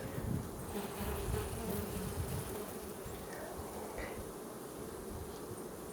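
Honeybees swarm around an opened hive during an inspection, a dense continuous buzzing drone close up, steady throughout with individual bees flitting past.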